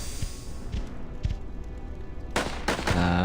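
Artillery fire in a strategy video game, a string of sharp gunfire-like bursts over a dense battle din, with heavier broadband blasts clustering toward the end.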